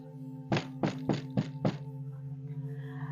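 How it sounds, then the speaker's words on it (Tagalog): Five sharp knocks on a door at midnight for a told story, loud and evenly spaced over a steady low hum, followed by quiet. "biglang may kumatok sa pintuan"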